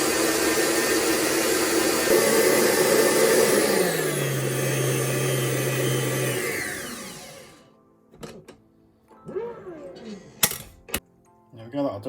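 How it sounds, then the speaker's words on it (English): An electric whisk beats eggs toward a soft ribbon stage while baking an opera cake: a loud, steady motor whir runs for about seven seconds, drops in pitch partway, then cuts off, followed by a few clinks and light handling sounds. "let's whisk these up to a soft ribbon stage."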